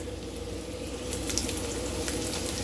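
Steak halves sizzle in a small skillet with a steady, close hiss and crackle that carries on without a break.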